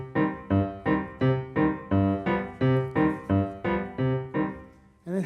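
A ragtime bass line, played as a steady series of about a dozen evenly spaced, bright plucked notes in bouncing rhythm, close and alone.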